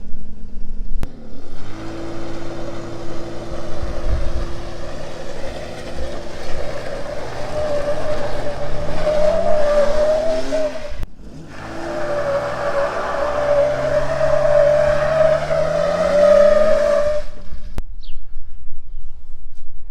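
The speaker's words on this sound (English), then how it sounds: "we're gonna see if we can make smoke come out of both tires" A Lexus IS300 with a newly installed limited slip differential does a burnout with both rear tires smoking, its engine holding a loud sustained high rev with rising tire squeal, briefly dropping near the middle before climbing again.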